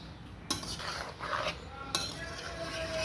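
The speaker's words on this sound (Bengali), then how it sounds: "মাংসটা নাড়াচাড়া করে ঢাকা দিয়ে দিচ্ছি" Mutton is stirred in a pan village-style, with clattering metal scrapes and knocks of a utensil against the cookware, two sharper clanks standing out over a low background.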